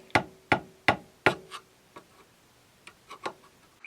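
Light metallic taps on a Tecumseh small-engine starter gear with a stuck, rusty bendix: four evenly spaced crisp ticks, then a pause and a few quieter, irregular taps, close up and without talk.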